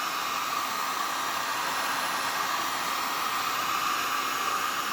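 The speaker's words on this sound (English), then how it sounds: "So you just use your heat gun and just run it across along the resin" Heat gun blowing a steady, even rush of hot air along the resin edge of tape on an ocean-style resin cutting board, continuous and close with no break or talk.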